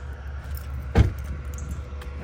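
Car keys for a Lamborghini Urus on a ring give a single short jangle, close and brief, over a steady low background rumble.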